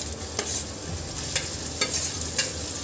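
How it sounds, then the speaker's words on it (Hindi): Onion, fennel and coriander paste fries over a low flame in hot cumin oil, giving a steady, close sizzle broken by regular scraping stirs of the pan. "लो फ्लेम पर इसे भूनेंगे"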